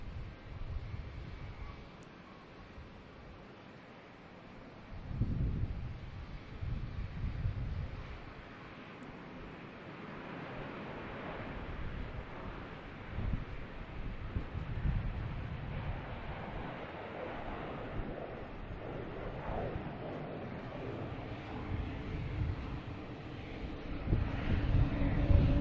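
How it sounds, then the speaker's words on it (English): A United airliner rolling down the runway for takeoff at Boston Logan Airport, a distant low jet roar that swells and fades with gusts of wind noise on the microphone. "here's that United rolling on the runway."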